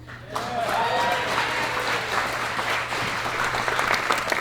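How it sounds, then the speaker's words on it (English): Wedding guests applaud loudly and steadily from start to finish, a dense wash of many hands clapping with a few voices mixed in, and a low steady hum runs underneath throughout. "How about another round of applause for Mr. Chin?"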